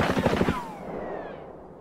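Gunfire in Escape from Tarkov: a rapid automatic burst of shots for about half a second, then a ringing, fading echo tail with no talk.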